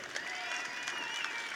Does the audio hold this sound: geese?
no